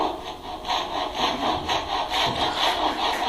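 A hand saw cuts a tenon in timber with steady back-and-forth rasping strokes, about three per second, close and moderately loud with no speech.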